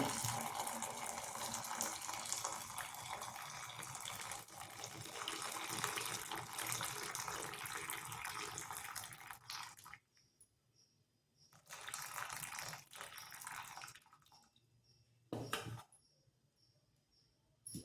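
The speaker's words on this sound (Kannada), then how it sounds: "ಸ್ವಲ್ಪ ಸ್ವಲ್ಪ ಜಾಗ ಬಿಟ್ಬಿಟ್ಟು ಹೀಗೆ ಬಗ್ಗಿಸ್ಕೊಂಡ್ಬಿಡ್ಬೇಕು ನೀರೆಲ್ಲ ಸುಲಭವಾಗಿ ಬಂದ್ಬಿಡುತ್ತೆ ಈ ಥರ" Water drains from homemade paneer wrapped in cloth as the plate is tilted, a quiet running trickle that stops and starts in separate bursts.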